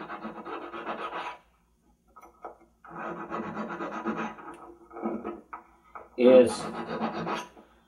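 A hand file rasps on a piece of jewelry metal being trimmed level during a repair, in short bursts of steady strokes separated by pauses, close and fairly clear.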